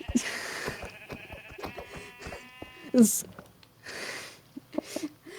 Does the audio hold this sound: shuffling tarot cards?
no